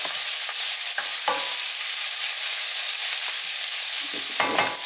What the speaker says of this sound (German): Alles muss ich ab und zu mal umrühren